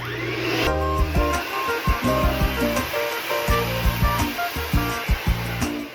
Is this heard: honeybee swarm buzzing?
no